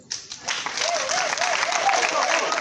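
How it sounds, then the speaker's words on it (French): Audience applauding at a comedy show at the Institut Français in Lomé, a dense wash of many hands clapping that swells in after a brief pause and holds steady, with a voice faintly heard beneath. "nous allons tous applaudir ce soir pour les étudiants togolais"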